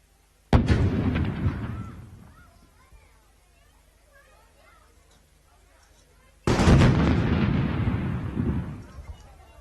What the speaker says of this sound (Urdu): خواتین و حضرات، قومی علم کو اب 21 توپوں کی سلامی دی جائے گی